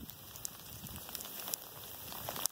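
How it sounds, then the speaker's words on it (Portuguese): Rain falls during a snowfall in South Carolina, faint and soft, scattered drips and taps against a quiet backdrop, a few sharper drops standing out, no voices. "tá nevando, tá chovendo."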